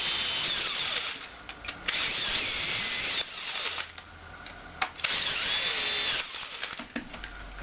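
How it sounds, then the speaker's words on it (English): A power drill whirs in repeated bursts, motor winding up and down through several short runs and pauses as it spins parts apart, loud and close with no talk. "So now that's gone in the drill, these come out so much faster."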